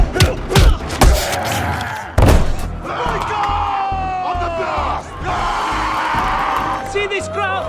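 A prison crowd roars and bellows for the fighter Boyka, loud and dense, with sharp thuds and slams early on and a sustained mass of yelling voices filling the rest.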